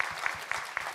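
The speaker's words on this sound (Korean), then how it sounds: "우리 챔버팀에게 또 감사와 격려의 박수 드리도록" Congregation applauding a chamber music ensemble during a Korean church Sunday service, a soft, brief burst of clapping from the pews with a few distinct claps over a low hall murmur.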